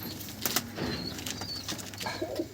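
High-flying tumbler pigeons, eight to ten years old, coo softly in a loft at close range. Low murmuring calls and light rustling sit in a quiet background.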